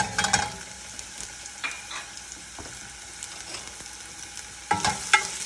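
Thinly sliced shallot dropped into hot oil, a faint background sizzle punctuated by sharp clattering bursts at the start and near the end, with a few lighter knocks between.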